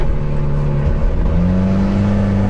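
A loud Volvo 940 drift car engine revs close by, a steady throaty drone whose pitch climbs partway through and holds high, with no voices.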